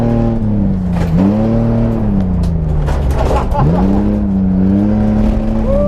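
A car driving laps makes a loud, close engine drone whose pitch repeatedly rises and falls as it revs and shifts, heard steadily from start to end.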